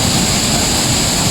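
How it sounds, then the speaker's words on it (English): Mahua Waterfall near Tambunan in Sabah, Malaysia, pours in a steady, loud, unbroken roar of rushing water filling the whole moment, with no voices. "这就是麻花 Waterfall。"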